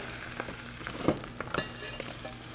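Beef caramelizes in a hot pan with a soft, continuous crackling sizzle, broken by a few sharper clicks and knocks as pieces are stirred and turned with tongs, fairly quiet and close.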